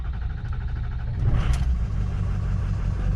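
Ford 6.0 Powerstroke diesel with about 249,000 miles starting cold, then settling into a steady low, rumbling idle that swells slightly partway through, heard close and alone.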